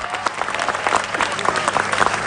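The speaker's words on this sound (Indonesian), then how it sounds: "Tepuk tangan dulu dong." Studio audience at a comedy roast battle breaks into steady, loud applause, dense clapping filling the whole stretch without pause.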